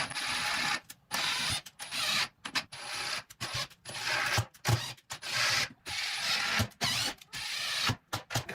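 Repeated bursts of a power drill driving screws into wood for a raised planter bed, whirring for about a second each, separated by short pauses, close by with no talking.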